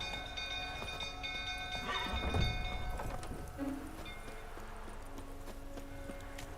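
Roach the horse galloping in The Witcher 3, with steady clip-clopping hoofbeats under a bed of game music and ambience, swelling briefly in the middle.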